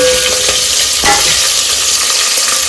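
Onion and green chillies fry loudly in hot oil for a chicken curry, a dense continuous crackling sizzle with a few stirring scrapes on top, very close and steady throughout.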